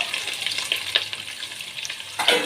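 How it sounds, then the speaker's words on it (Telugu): Onions, chillies and cashew nuts frying in hot oil for prawn biryani give a steady, close sizzle and crackle with a few brief stirring scrapes and no voices. "ఆనియన్తో పాటు జీడిపప్పు కూడా వేగుతుందండి"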